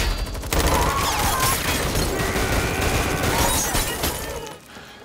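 Sustained bursts of gunfire from the action series Money Heist crackle and boom continuously, loud and dense with shattering debris, before dropping away at the end.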